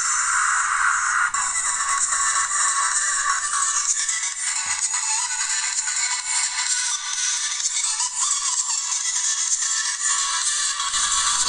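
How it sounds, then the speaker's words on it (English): Audio plays loud through the built-in speaker of a Landvo L600S phone, steady and bright but thin with almost no bass, running the whole time without talk. "let me see if I can play through the built-in speakers in the phone"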